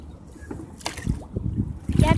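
A rowboat on a park pond, the Vosmyorka pond in Yuzhno-Primorsky Park, St. Petersburg, with oars knocking and splashing in short irregular strokes close by, under a little voice activity.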